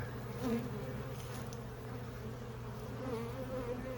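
A steady hum of honey bees from a cutout colony hovers around a Layens hive, close and continuous, with small rising and falling swells of individual buzzing.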